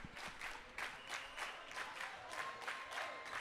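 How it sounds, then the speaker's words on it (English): A crowd at a boys' volleyball semifinal stomps and claps in a steady rhythm of heavy beats, with cheering mixed in, heard from within the gym at a moderate distance. "Stomping crowd."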